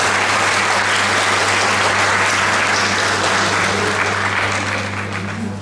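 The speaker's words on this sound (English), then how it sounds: "a huge round of applause" A live audience gives a sustained, loud round of applause welcoming a speaker to a webinar, the dense clapping holding steady for several seconds before easing slightly at the end, with no voices over it.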